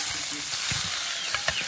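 Food sizzling and frying in a pan at home, a steady crackling hiss with a few brief stirring clatters, moderately close and with no talk over it.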